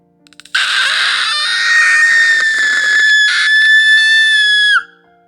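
A girl lets out one long, piercing scream, loud and close, sustained for several seconds before cutting off abruptly.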